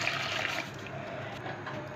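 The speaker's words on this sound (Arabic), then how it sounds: "معايا كوبايتين مية سخنة. ادي اول كوباية" A cup of hot water being poured into a pot, a soft splashing stream that pours steadily, then eases into a quieter trickle; faint and close, with no speech.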